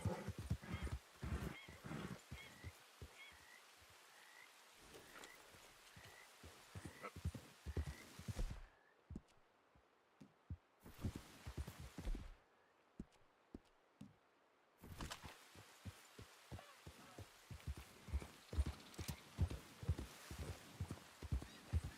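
A horse gallops in Red Dead Redemption 2 with rapid rhythmic hoofbeats, some snorts and whinny-like calls, and two silent gaps before the pounding resumes, fairly close and alone.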